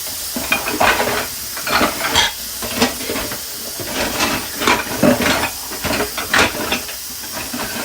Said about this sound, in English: I'm gonna need that whisk again